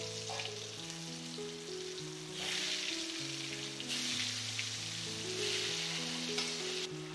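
Halved potatoes fry in hot oil, a continuous hiss and crackle swelling in a few louder surges, heard alone.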